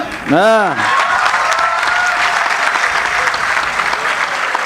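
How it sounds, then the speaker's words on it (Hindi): Audience applause at a Kavyanjali poetry recital held at KIET Group of Institutions, sustained steady clapping from a large crowd that rises quickly after a sung phrase and carries on loudly to the end. "जगीरा खत्म हुए, तालियां बजाइए।"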